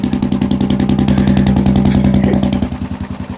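A motorcycle engine revs loudly and close, holding a steady throbbing, pulsing tone throughout.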